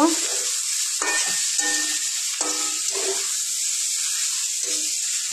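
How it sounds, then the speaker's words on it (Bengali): Radish greens being stirred and fried in a pan with Amul desi ghee, giving a steady close sizzle broken by several short bursts of scraping from the stirring utensil, with no one talking. "লাস্টে আমি একটু আমুলের দেশি ঘি দিচ্ছি, নাড়াচাড়া করে নেব"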